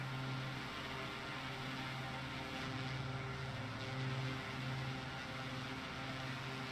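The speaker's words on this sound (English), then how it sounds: "I can hear an engine." A distant aircraft engine hums as a steady, low, continuous drone at fairly low volume, with no voices over it.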